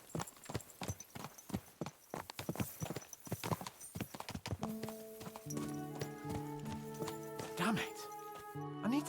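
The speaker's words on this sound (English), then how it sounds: "Let's really spur these horses on, eh?" Horse hooves galloping in the video game Kingdom Come Deliverance 2, a fast, loud clip-clop rhythm close by that later runs under sustained game music, with a horse whinny near the end.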